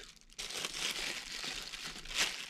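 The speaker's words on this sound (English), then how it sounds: "take a plastic bag, all my seasoning, I'll put it into the plastic bag." Plastic bag crinkling as seasoning is poured in for non-barbecue beef ribs, a close, continuous crackly rustle with a louder burst near the end and no talking.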